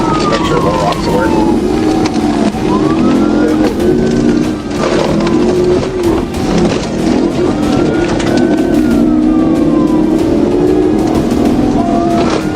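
A police siren wails in long rising and falling sweeps over the loud, steady roar of a speeding car's engine.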